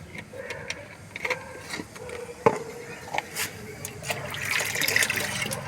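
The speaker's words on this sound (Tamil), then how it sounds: "ரெண்டு தம்பி தண்ணி இருக்குது இதை அப்படியே அந்த வாளியில் ஊற்றிடுறோம்" Leftover liquid fertilizer water made from banana peels is poured into a bucket, giving a steady splashing trickle that swells toward the end, close by, with faint clinks and soft room noise.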